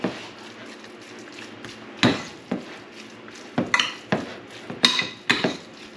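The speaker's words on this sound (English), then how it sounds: "Let's stir that up." Utensils clink and scrape against a bowl while deer jerky marinade is stirred, a handful of sharp knocks scattered over a quiet background, with no talking.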